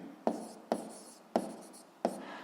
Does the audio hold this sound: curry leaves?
no